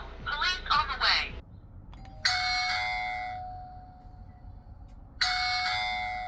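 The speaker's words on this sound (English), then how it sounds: "once someone pressed the doorbell ringer" A Botslab Video Doorbell 2 Pro chimes twice, each a clear electronic ding that rings out and slowly fades, after someone speaks briefly at the start.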